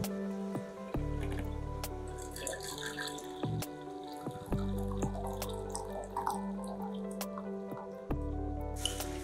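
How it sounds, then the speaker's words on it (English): Hot water from a kettle pouring into a teapot to steep blue lotus, a steady close liquid stream with drips and trickles that stops and restarts a couple of times over about nine seconds, with no talking. "First, we will add our hot water to the teapot."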